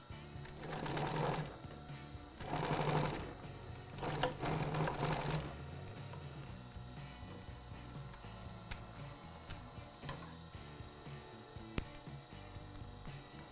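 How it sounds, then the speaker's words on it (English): Sewing machine stitching an upholstery seam at a 90-degree inside corner, running in three short loud bursts of rapid stitching separated by pauses, followed by quieter handling of the fabric with faint ticks. "we can continue sewing. And then we'll just finish this seam up."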